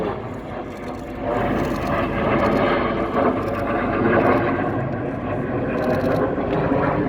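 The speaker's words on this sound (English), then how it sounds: "Red 6 and 7 flying canopy to canopy as they push over the top in the mirror roll." Red Arrows Hawk jets flying a mirror roll at the Gdynia Aerobaltic air show give a loud, continuous jet roar that swells and holds steady as the pair passes, with crowd noise and a commentator's voice faintly beneath.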